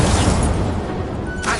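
A fire spell is cast in a Harry Potter video game, giving a loud, rushing blast of flame that roars continuously and then flares again briefly near the end.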